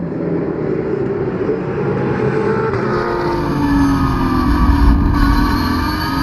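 Porsche 991 Cup race cars with 4-litre engines battling on track at Ledenon circuit: a steady, continuous engine drone with shifting pitch as the cars pass, loud and without speech.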